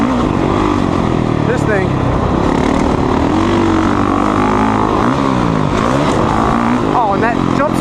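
A Honda CRF450R dirt bike engine drones loud and steady while riding, with someone talking over it throughout.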